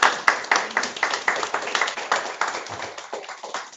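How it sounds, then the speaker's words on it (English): A small group at a parent-teacher organization meeting claps for guests, a rhythmic, fairly close patter of hands lasting several seconds with no voices over it. "Let's do a round of applause for our guests."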